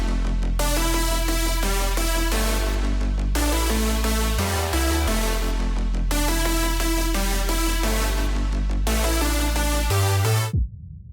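Dancefloor drum and bass track with a pure sine-wave sub bass under layered bass lines and a bright synth lead, playing loud and continuous in repeating bars before cutting off abruptly near the end.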